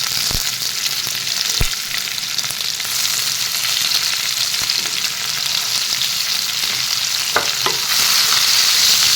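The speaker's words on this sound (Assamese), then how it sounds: "তাৰপিছত এয়া মই কাটি থোৱা পিঁয়াজ আৰু নহৰুখিনি দি দিম" Chopped onion and garlic frying in a pan, a loud, steady hiss of oil with a few sharp knocks of a utensil against the metal, close up and continuous.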